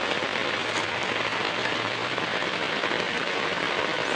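Heavy monsoon rain pours down steadily during flooding around a rural home, a dense unbroken hiss of drops drumming on surfaces, loud and constant with no voices.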